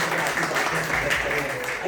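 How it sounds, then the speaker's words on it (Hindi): Congregation applause in a church welcoming a guest, steady dense clapping throughout the short stretch, with a voice faintly present underneath. "आइए तालियां बजाकर"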